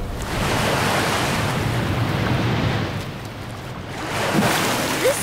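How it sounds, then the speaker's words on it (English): Cartoon sea waves surge onto an island shore in a steady, loud roar of surf and rushing water that swells, dips slightly, then builds again, with wind-like noise and no talking. "What's the sea doing here?"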